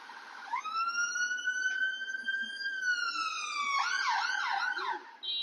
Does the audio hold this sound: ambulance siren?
yes